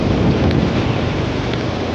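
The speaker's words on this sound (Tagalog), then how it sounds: "Lakas ng ulan!" Heavy rain pours down in a thunderstorm, a loud, dense and continuous roar with low thunder rumbling underneath and wind buffeting the microphone.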